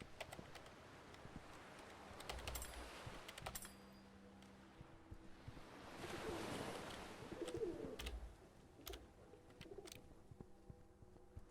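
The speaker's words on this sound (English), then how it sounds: "Do without the constant cooing of the birds." Birds cooing repeatedly, pigeon or dove-like calls running steadily through a busy, noisy scene with clicks and background sounds, moderately loud.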